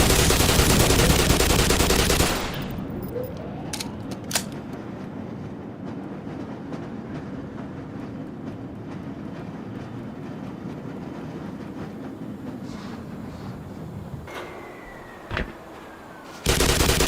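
Gunfire from a weapon in the video game Black Mesa: a loud burst at the start, then isolated sharp shots and clanks over a quieter ambient hum, ending with another loud burst.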